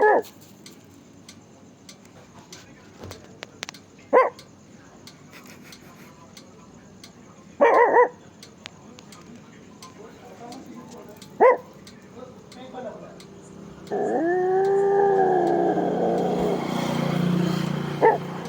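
A man makes bark-like yelps in short bursts, mimicking a dog to tease street dogs outdoors, followed by a longer, louder wavering howl-like imitation near the end; no real dog is clearly audible.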